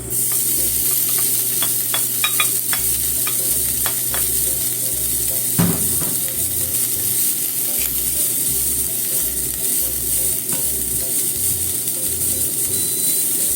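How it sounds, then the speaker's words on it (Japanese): Shiso leaves stir-fry in sesame oil over medium heat, giving a steady, loud sizzle throughout, with occasional scrapes and clicks of a utensil stirring the pan. "じゃあ中火でちょっと炒めますね。"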